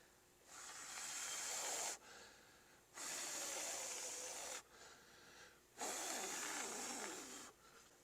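Three long, close breathy blows of air from a person's mouth onto indoor seedlings, imitating wind to strengthen their stems, each lasting about a second and a half with short pauses between.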